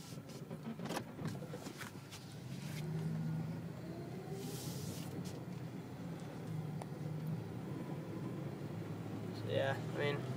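A 1999 Dodge Dakota truck drives down a cul-de-sac, its engine a low steady rumble under cabin noise, with people talking briefly over it.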